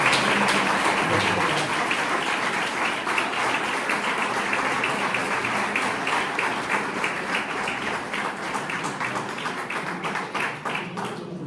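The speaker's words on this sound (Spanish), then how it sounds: "un aplauso fuerte por tu tiempo con nosotros" A parish audience claps loudly and steadily for a guest speaker after a talk on the Garabandal apparitions, dense applause sustained for the whole stretch and easing slightly toward the end.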